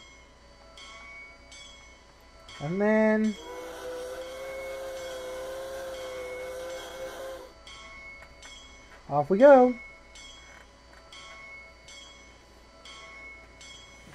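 A steam locomotive bell clangs steadily in a simulated cab in the Railworks train simulator, with a whistle sounding twice and a voice speaking briefly near the end.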